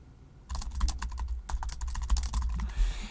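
Rapid typing on a computer keyboard, a dense run of close, crisp key clicks starting after a brief quiet moment and continuing steadily, with no talk.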